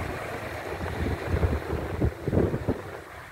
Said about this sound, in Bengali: অশান্ত পানির ঢেউ